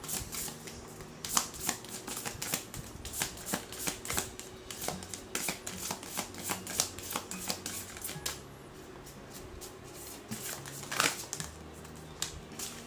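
A deck of oracle cards shuffled by hand in a quiet room, rapid crisp riffles and slaps in irregular bursts, close and clear, with no voices.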